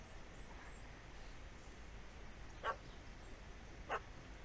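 A puppy barking in The Witcher 3 video game gives two short, sharp barks about a second apart, fairly faint over a quiet ambient game background.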